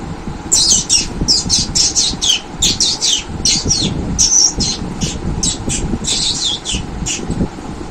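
A voice imitates a sparrow with rapid, high chirps in quick bursts, repeated over several seconds.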